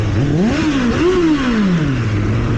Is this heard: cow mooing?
no